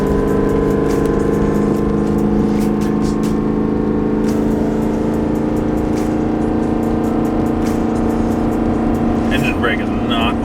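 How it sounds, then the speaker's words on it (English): A loaded heavy truck hauling an overweight, oversized machine descends a steep hill with its engine brake on, giving a loud, steady droning roar with strong tonal harmonics that runs unbroken throughout, a voice talking faintly beneath it. "Engine brake is not holding this."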